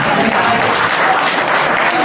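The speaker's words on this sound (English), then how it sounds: "Please give them a round of applause" An audience applauds at a community gathering, a dense, steady wash of clapping that holds loud and unbroken throughout.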